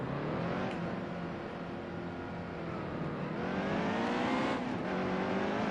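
A NASCAR race car engine in the video game NASCAR Heat 2 roars steadily at high revs, its pitch sweeping up and down through gear changes, continuous and loud with no talking.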